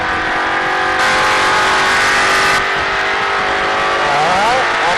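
A race car engine at Charlotte Motor Speedway roars at high revs from inside the car, loud and continuous as the driver holds the throttle, with the pitch shifting between gears and no talking.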